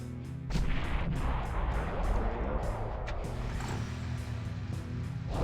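Units firing in the strategy video game Final Liberation: Warhammer Epic 40k, a dense, loud artillery-like barrage of booming blasts and mechanical clatter that rolls on steadily through the whole stretch.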